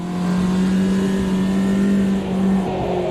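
Race car engine revving hard in the Automobilista 2 racing game during career mode, a loud sustained engine drone that holds steady with a brief dip before pulling again in second gear.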